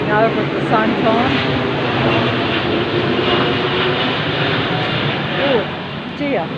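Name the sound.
airplane flying overhead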